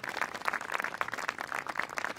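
Faint, somewhat distant applause from the audience at a Martyrs' Day poetry gathering in Jaipur, a brief patter of scattered claps rising and falling over a couple of seconds.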